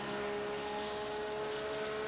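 A racing car engine in a sim racing game produces a steady, high-pitched droning whine at constant revs, continuous and fairly faint, with no talking.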